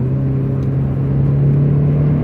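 A small Ford car accelerating hard, its engine holding a loud, steady droning rumble throughout, close and continuous with no other sounds.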